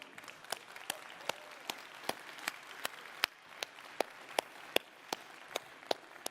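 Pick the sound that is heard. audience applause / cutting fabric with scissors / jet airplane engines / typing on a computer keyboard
audience applause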